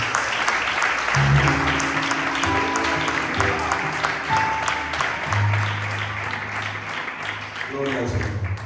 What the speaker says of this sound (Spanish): ¿Cuántos dan aplausos a bendito Dios?